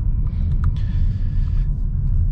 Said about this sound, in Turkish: Benzin motorun sesi